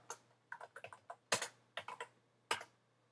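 Typing on a computer keyboard: quick, irregular clicks of keys close up, with a few heavier presses mixed in, in a quiet room and without any voices.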